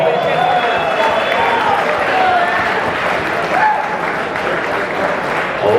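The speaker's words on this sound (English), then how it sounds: "Give him a round of applause." Loud, dense applause from a charity auction crowd follows a lot selling, a sustained wash of many hands clapping at once with faint voices and whistles mixed in.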